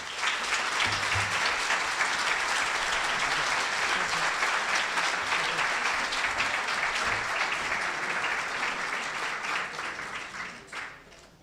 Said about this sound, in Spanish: Le ruego un fuerte aplauso para Matías Di Stefano